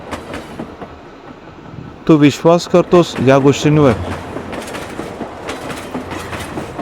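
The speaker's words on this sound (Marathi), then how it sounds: "ट्रेन पुढे जात असते" A train rolls along a railway track with steady rumbling clickety-clack, while a voice speaks over it in the middle and the running noise carries on beneath.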